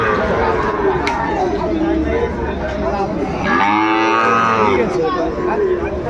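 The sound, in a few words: Sahiwal breed cattle mooing at a livestock market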